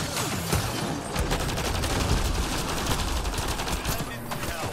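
Gunfire in the video game Mass Effect: Andromeda, a dense, sustained stream of rapid shots and bursts running through the whole stretch, loud and close, with layered crackling impacts and no pauses.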